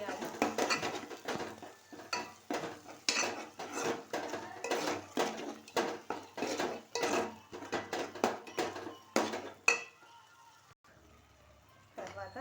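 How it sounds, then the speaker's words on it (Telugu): Spoon stirring and scraping in a pan as 2 spoons of chili powder are mixed into paneer curry, giving a dense run of metallic clinks and scrapes, close and fairly loud, then a quieter stretch near the end. "బాగా మిక్స్ చేయాలి."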